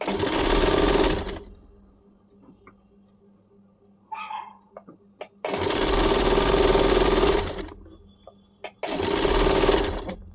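A sewing machine stitches a churidar in three loud, close bursts, pausing between runs. During the quiet gaps a dog gives a brief bark and small clicks of handling are audible.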